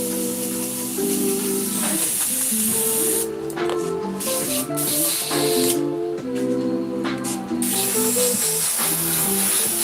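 A hand-held airbrush sprays paint in a continuous close hiss, with brief dips where the spray eases off before resuming.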